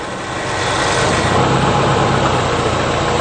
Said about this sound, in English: can you put it in drive nice and slow? Hold the brake and let the wheels start spinning slowly.